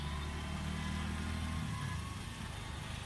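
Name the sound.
auto rickshaw three-wheeler engine driving in India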